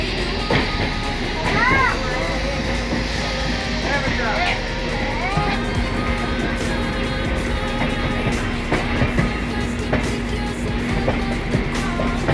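The Howrah–Mumbai Mail rolls into Mughal Sarai Junction with a steady rumble and rhythmic clatter of wheels over rail joints, while someone talks over the moving train.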